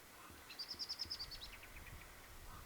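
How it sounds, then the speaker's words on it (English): A small bird sings under coastal cliffs on the Isle of Arran, a quick run of about eight bright, even chirps near the middle. The song is faint and fairly distant over soft outdoor ambience. "Still the bird song."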